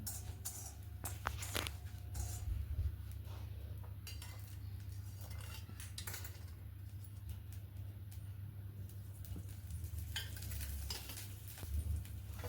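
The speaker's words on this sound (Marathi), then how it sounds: "लवंग मिरे थोड्या सुक्या लाल मिरच्या घेतल्या ते आपण तेल टाकून थोडं छान भाजून घेतलं" Cloves, black peppercorns and dried red chilies roast in oil in a pan, with close spatula scrapes and metallic clinks over a faint sizzle and a steady low hum.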